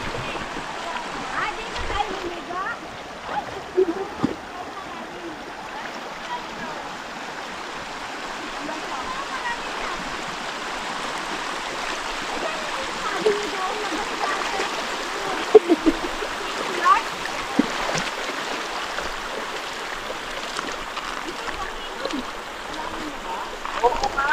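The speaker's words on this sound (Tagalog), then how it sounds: "Saan galing tong ilog na to?" Steady rushing of river water flowing below a dam, a continuous broad hiss with occasional splashes, while people talk intermittently nearby.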